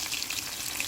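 Sweet potatoes bubble and sizzle steadily in hot frying oil, a close, even crackle with no pauses and no voices over the brief stretch.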